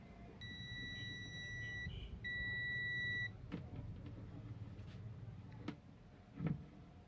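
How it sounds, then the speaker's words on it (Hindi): A multimeter set to buzzer mode for continuity testing while repairing a microwave oven gives two steady electronic beeps, about a second and a half each, close and clear over a low background hum, followed by a few light clicks. "सबसे पहले मल्टीमीटर को बजर मोड पे सेट करेंगे।"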